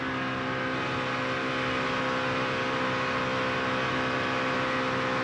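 NASCAR Camping World Truck Series truck at Atlanta held wide open on corner exit, a steady loud V8 roar with dense harmonic drone and no let-up, continuous throughout, no talking.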